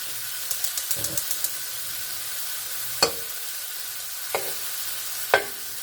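Butter sizzles with a soft, steady hiss in a cast iron skillet, with light tapping of a utensil and a few sharp scraping clicks; no one speaks.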